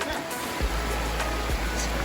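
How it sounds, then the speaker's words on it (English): Mountain torrent near Orient, Mallorca, rushing toward a waterfall: a steady, loud broadband roar of churning water fills the whole clip, with brief thumps of wind or handling on top. "That's the torrent that goes to the waterfall."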